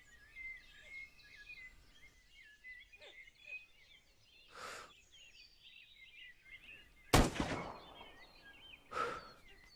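A single sharp sniper rifle crack from the survival game SCUM bursts out loud and close, then tails off. Faint bird chirps and soft rustling run through the quiet surroundings before and after.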